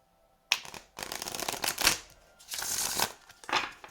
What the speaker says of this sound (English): these cards, when I shuffle them, it's very satisfying